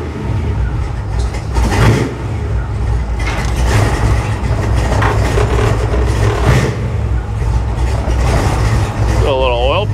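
An old Chevrolet Nomad car engine runs at a steady, loud, rough idle close by, with low rumbling throughout and a few swells in revs.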